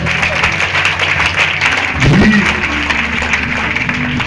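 Congregation applause at a church service, a brief burst of clapping and cheering under a preacher's voice, with a short vocal exclamation in the middle of the clapping.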